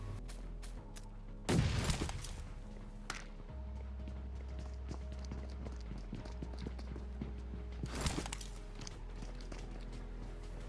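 Enemy players' footsteps in a shooting video game, heard as faint, quick tapping steps in an otherwise quiet stretch, interrupted by two sharp, louder bursts of noise.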